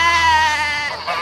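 A single sheep bleats close by, a loud wavering cry that lasts over a second and trails off at the end.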